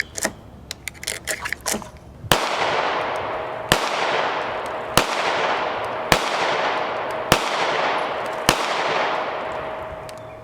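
A pistol with a Holosun 507c ACSS Vulcan red dot fires 115 grain full metal jacket rounds at a range: six sharp, loud shots about a second and a half apart, each with a long echoing decay, preceded by quick clicks and handling noises.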